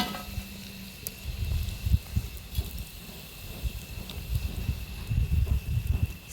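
Dal baati balls deep-frying in hot oil, one batch after another, giving a steady close bubbling sizzle with small crackles and stirring bumps and no voices.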